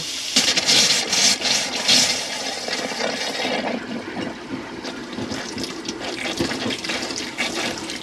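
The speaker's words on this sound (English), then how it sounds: "It just shows that your water pump's working." Steady rushing water with a gurgling flow and a low mechanical hum underneath from a water pump priming through the system of a Hymer Classic B654 motorhome, fairly close, continuous for the whole stretch with no voices.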